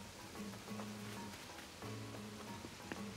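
Soft, steady rain falls in Animal Crossing: New Horizons, a gentle wash of patter under quiet, mellow game music, with no voices.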